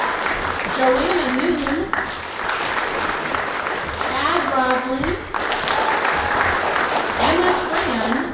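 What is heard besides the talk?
audience applause for the team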